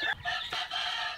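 Chickens cluck close by in a short burst of sharp, overlapping calls during feeding time, with no voices heard.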